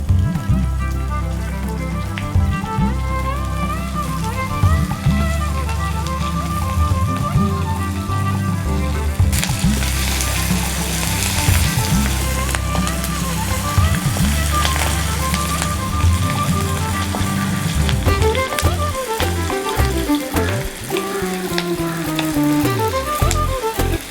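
Green chilies and onion dropped into hot oil for a drumstick curry crackle and sizzle loudly and continuously close by, with stirring and a faint tonal background throughout.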